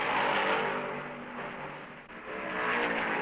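Vintage 1970 NASCAR stock cars roaring around Darlington during the Southern 500, a dense, continuous engine drone from many cars at racing speed, loud and steady with a slight dip and swell as the pack sweeps past.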